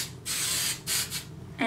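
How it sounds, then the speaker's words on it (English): An aerosol can of hairspray hisses onto short hair styled in victory rolls, with two close bursts: a longer spray followed by a shorter one. "we want to finish off with some hairspray to help"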